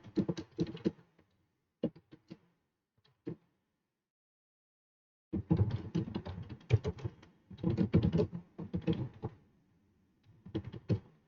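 Typing on a computer keyboard: quick clusters of close, crisp key clicks, with short pauses and one long silent gap before a denser run of keystrokes.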